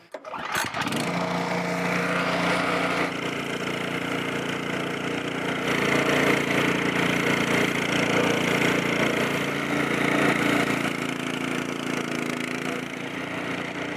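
A Czech VATOR mini tractor fitted with a drum mower runs steadily after a brief start-up, its engine a loud, constant mechanical drone with no speech.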